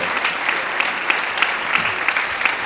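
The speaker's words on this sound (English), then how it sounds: "Give these people a round of applause." Audience at a high school fall concert claps loudly and steadily, a thick wash of many hands close by with a few sharper individual claps popping out, and no voices over it.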